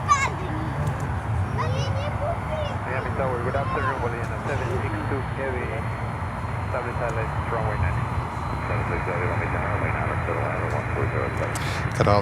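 LATAM Cargo aircraft approaching Miami airport, a steady engine drone running beneath lively background chatter and children's voices, with the aircraft sound blending into the crowd noise rather than standing out.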